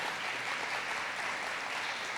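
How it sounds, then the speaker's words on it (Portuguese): A church congregation claps after a reading, a soft, steady wash of applause heard from a distance. "Você pode aplaudir a palavra de Deus"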